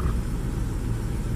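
A Land Rover GEMS-engined vehicle idles in drive at around 700 RPM, giving a steady, close, low rumble that stays even and unbroken throughout.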